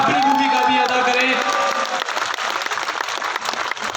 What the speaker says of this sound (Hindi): मैं चाहूंगा कि एक बार जोरदार तालियां अपन सब अपनी तरफ से बजाएं